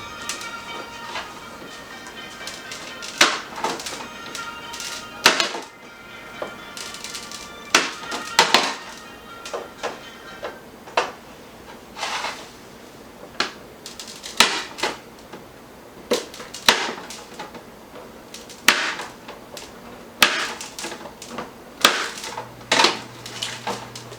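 Knife slicing chilled icebox cookie dough with sprinkles on a tray, repeated sharp taps and clicks of the blade hitting the tray in an uneven rhythm, close and fairly loud, no talking.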